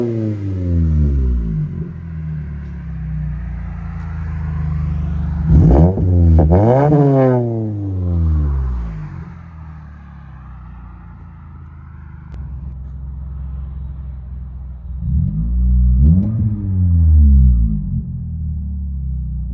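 A 2024 Toyota Camry SE with a 2.5L engine and Flowmaster Flow FX exhaust idles with a deep drone, then snaps through two sharp revs around the middle and one more near the end, loud and close.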